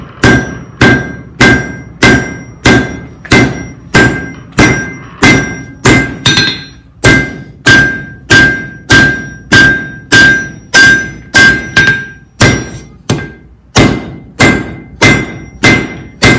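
A hammer strikes an old piece of spring steel being forged into a knife blade on an anvil, about two loud ringing blows per second in a steady rhythm, close and clear with no talk.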